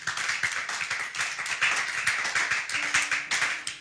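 A church congregation claps to acclaim the Lord, producing a brisk, steady stream of many overlapping hand claps at close range, continuous for a few seconds with a faint sustained tone joining near the end.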